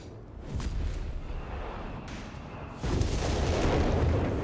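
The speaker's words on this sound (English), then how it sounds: "we got another artillery barrage from some light artillery guns here going off around the centre" Light artillery guns fire a barrage around the centre of a Company of Heroes 3 battle, deep rumbling booms rolling under a continuous distant battlefield roar, with a heavier burst near the end.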